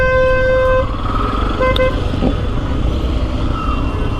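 A hydraulic car horn in city traffic blares nearby, first a long blast and then a shorter one, over the constant rumble of engines and road noise.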